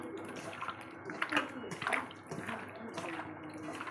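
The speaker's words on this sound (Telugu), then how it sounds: "ఇలా సాల్ట్ వేసుకొని బాగా కడుక్కోవాలి." Raw prawns are washed by hand in water with salt, making close, soft sloshing and splashing with rubbing and dripping in uneven bursts.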